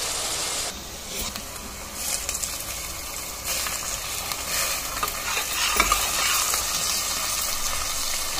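Mutton chunks sizzle steadily in hot ghee while a utensil stirs and scrapes through them, a close, continuous frying hiss with soft clatters of stirring throughout.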